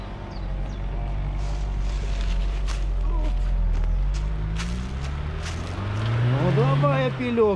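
An Opel Astra G 1.6 16-valve car begins a climb up a sand hill, its engine droning close and rising in pitch near the end, while voices talk over it.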